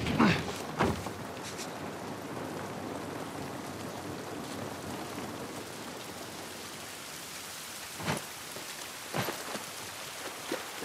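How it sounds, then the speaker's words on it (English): Steady rain hisses throughout in The Last of Us Part I, a dense even wash of falling water with a few brief louder knocks and thumps breaking through near the end. "This rain ain't gonna do us any good."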